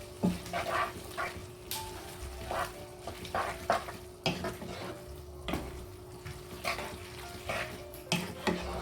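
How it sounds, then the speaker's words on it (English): Pasta stirred into a Desi-style bolognese sauce in a pan, with repeated scraping and clinking of a utensil against the pan over a soft, steady sizzle, at close range with no talking. "Just going to loosen this pasta and give it a good mix"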